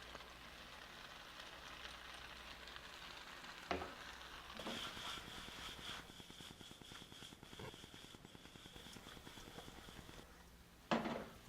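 Spinach stirred in a hot oiled pan sizzles steadily, with a spoon scraping and turning it, while making sautéed pappardelle with prosciutto and cherry tomatoes; a few sharper clatters stand out near the start and the end.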